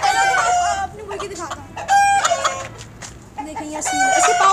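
An Aseel rooster, a heavy game fowl breed, calls loudly and close in several harmonic bursts of clucking and crowing, with short pauses between calls and some background noise.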